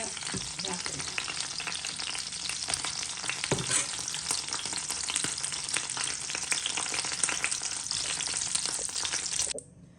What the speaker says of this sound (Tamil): இப்போ பொரிச்சு மிளகாய் எடுத்து வச்சுட்டேன்